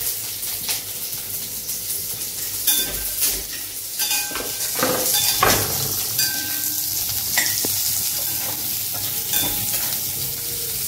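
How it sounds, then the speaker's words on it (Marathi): Onion fries in a pan for paneer masala, a steady sizzle broken by repeated scraping and clinking as a utensil stirs against the metal, close and moderately loud with no talk. "कांदा टाकूया याच्यामध्ये।"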